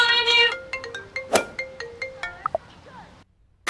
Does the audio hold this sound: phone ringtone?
yes